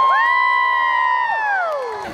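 A crowd at a Polynesian cultural show screams and cheers in one sustained, loud burst. A single high shriek stands out above the mass of voices and then slides downward as it fades.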